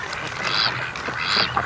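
Ducks quacking from a dock area, two raspy calls over steady outdoor background noise at moderate distance.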